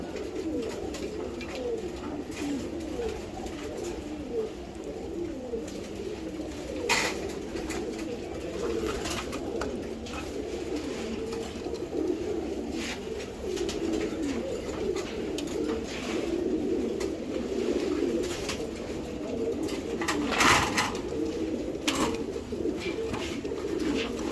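A female racing pigeon, a breeding hen bought at auction, coos steadily in low, throaty, rolling calls that run almost continuously from close by, with no voices.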